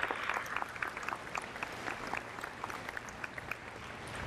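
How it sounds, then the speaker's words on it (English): Steady applause from an audience at a fall university commencement ceremony, a continuous even patter of many hands clapping at moderate distance, with no voices on top. "Would you please give them a round of applause for all the work that they do?"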